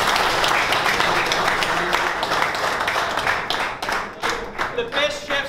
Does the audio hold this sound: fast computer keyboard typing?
no